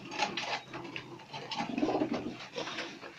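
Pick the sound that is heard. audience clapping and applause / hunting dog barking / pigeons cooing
pigeons cooing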